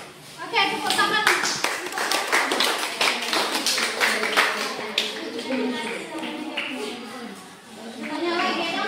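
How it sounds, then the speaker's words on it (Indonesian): A group of children in a classroom clap their hands together in a lively burst of applause, mixed with voices and chatter, the clapping fading as talk carries on. "Oke, tepuk tangan."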